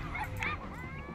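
A dog in The Sims video game gives short, high whimpers and yips as it dies of old age, a brief, fairly faint game sound effect.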